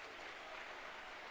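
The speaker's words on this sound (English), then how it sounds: "acknowledging the applause from the fans" Rugby league fans applauding in a stadium at a St Helens versus Salford match, steady, even clapping from a large crowd heard at a distance and fairly faint.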